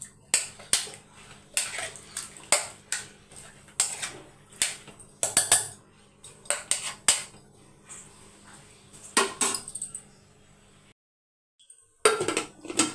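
A metal spoon clinks and scrapes against a pot while stirring water and turmeric powder, in uneven repeated strokes, close by, ending with a short silence and a few more clinks.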